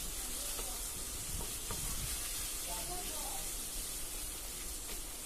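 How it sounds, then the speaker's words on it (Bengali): Chopped onions frying in oil in a pan until brown, a soft continuous sizzle and hiss with a few stirring scrapes, fairly quiet and steady, no talking. "পেঁয়াজ কুচি দিয়ে দিলাম। এগুলো একটু ব্রাউন কালার করে ভেজে নেব"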